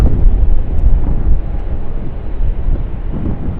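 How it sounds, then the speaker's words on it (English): A Qantas Airbus A380-800 airliner taxis out at Sydney Airport, a steady loud low engine rumble with broadband roar and wind buffeting, continuous throughout with no talk. "We've got our Qantas Airbus A380-800 taxiing out at the moment."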